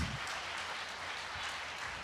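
Congregation applauding during a church service, a steady broadband wash of clapping filling the space at moderate level without any voices standing out.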